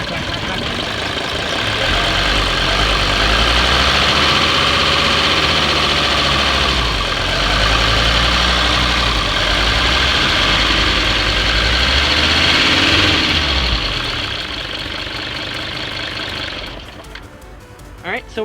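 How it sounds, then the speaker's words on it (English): A 1977 Mercedes-Benz diesel engine runs after a fuel filter change, a loud close rumbling clatter that holds steady and rises briefly before cutting out near the end, with a voice heard over it. "we'll go ahead and start her up again"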